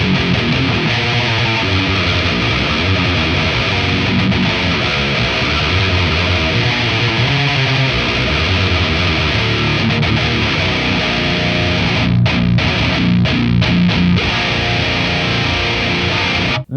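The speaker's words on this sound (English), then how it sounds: "this pedal just transforms this amp into something really like wild" Electric guitar played through a distortion pedal into a Marshall Origin 50 amp, a loud, thick, saturated wall of sustained chords and riffs throughout, with a few choppy breaks near the end.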